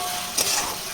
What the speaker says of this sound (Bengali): আলু মোটামুটি কষানো হয়ে গেছে